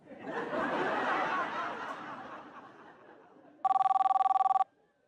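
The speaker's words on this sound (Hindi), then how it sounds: "खाने के टाइम पे फोन आ गया, देखा?" A telephone rings with a rapid, buzzy electronic trill lasting about a second, following a stretch of murmuring voices and laughter.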